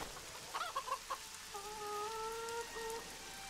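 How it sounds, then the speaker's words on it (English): Rain falls steadily in the background while a chicken clucks nearby in several short bursts, followed by longer drawn-out calls, in the video game The Witcher 2: Assassins of Kings. "It's really raining now."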